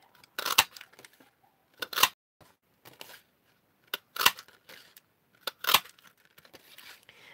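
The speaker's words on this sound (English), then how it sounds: "So I'm just going to cut some leaves from this paper here." A handheld leaf punch cuts leaf shapes from a sheet of craft paper, giving four sharp crunching snaps spaced about one to two seconds apart, with softer paper rustles between them and no talking.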